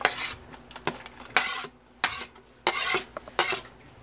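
Instant pancit canton noodles with boiled eggplant are tossed and stirred in a pan, giving several short scraping, clattering bursts of a utensil against metal with quiet gaps between them.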